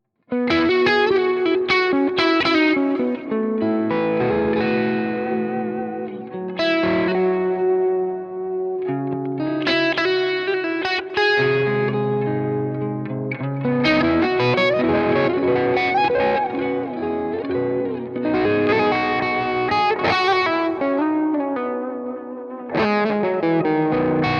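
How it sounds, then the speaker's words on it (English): Crunchy, compressed Marshall-type electric guitar tone from the Archetype: Mateus Asa amp simulator plugin, overdriven chords and lead lines played continuously, loud and sustained with no talking. "This is more of a compressed kind of Marshall type sound"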